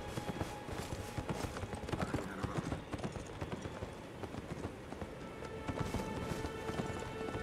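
A horse galloping in Elden Ring, rapid rhythmic hoofbeats pounding steadily with combat noise mixed in, fairly close and continuous.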